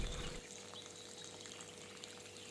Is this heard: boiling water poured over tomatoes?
yes